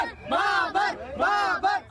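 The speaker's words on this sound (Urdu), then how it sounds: "شائقین نے نعرے لگائے" Cricket fans chanting slogans for Pakistan outside the ICC Academy ahead of the match against India, a crowd of voices rising and falling in loud repeated cheering bursts.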